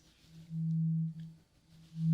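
A low, pure ringing tone of a struck tuning fork sounds in a couple of steady swells, quiet and close, fading in and out.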